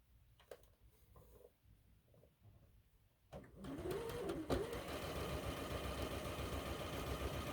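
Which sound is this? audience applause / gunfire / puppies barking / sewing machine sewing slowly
sewing machine sewing slowly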